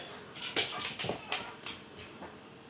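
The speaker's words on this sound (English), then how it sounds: "Ignore my dog, guys." A dog whimpers and yips nearby in a run of short, high, breathy whines at uneven intervals, fairly quiet against a calm indoor background.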